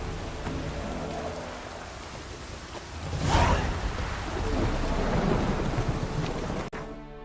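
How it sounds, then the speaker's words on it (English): Steady rain hisses along a stormy coast in The Witcher 3 video game, with a thunderclap swelling partway through and rumbling on under the downpour. "It is very rainy in these coasts."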